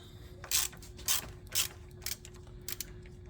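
A ratchet on an extension loosening engine mount bolts on a Ford Focus ZX4, five short, sharp clicking bursts at a steady pace, close and alone.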